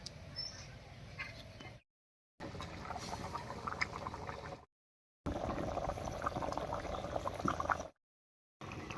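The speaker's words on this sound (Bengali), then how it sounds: "ঝোলটা খুব ভালো করে জাল করে বলক উঠে গেছে।" Curry gravy for a village-style egg and cauliflower dish bubbling at a rolling boil in a pan, a steady close bubbling and sizzling texture broken by brief silent gaps.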